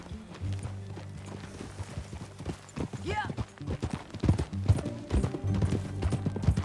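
Horse hooves clip-clopping in Red Dead Redemption 2 as riders set off together, a steady trotting rhythm close by over a low musical backdrop, with a brief spoken word in the middle.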